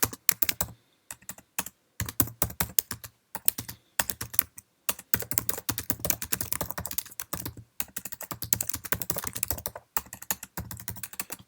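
Someone types an email on a Mac computer keyboard, with quick bursts of crisp key clicks broken by short pauses, close and clear in a quiet room.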